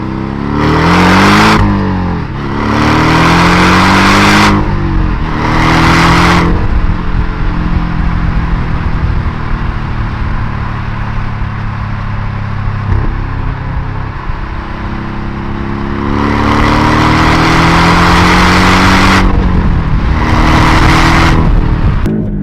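A new Porsche Cayman S with a manual gearbox accelerates hard on a highway, its engine climbing through several loud revving pulls with gear changes between, then a long steadier cruise before more rising revs, close and loud throughout.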